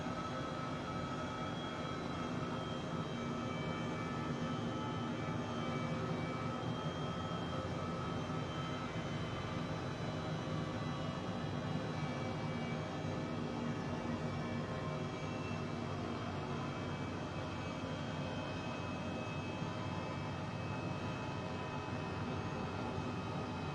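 An H135 helicopter flying in Microsoft Flight Simulator, a continuous dense engine and rotor drone held at a steady loud level throughout with no pauses.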